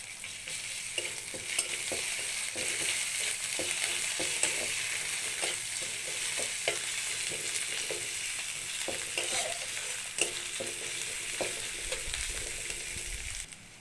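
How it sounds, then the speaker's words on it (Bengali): Onion, turmeric and a spoonful of ginger-garlic paste fry in a pan of oil for a mahua fruit dish, giving a steady close sizzle with scattered clinks and scrapes of a spoon stirring, no talking. "আদা রসুনটাও ভেজে নিয়েছি"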